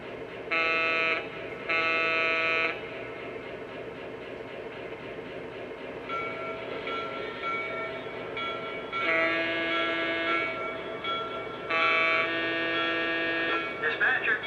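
A Lionel Southern freight set model train with a GP7 2180 locomotive rumbles along steadily, with loud electronic buzzer-like tones sounding in several bursts over the running noise.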